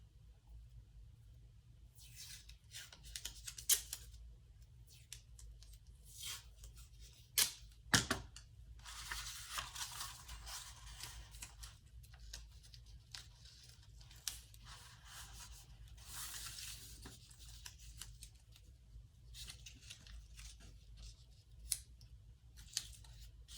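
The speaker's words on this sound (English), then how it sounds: "And I actually like to tape this as well." Tape being pulled and pressed down to fix palette paper in place for gouache painting, a string of sharp peeling rips and soft rubs, close and moderately quiet with no talk.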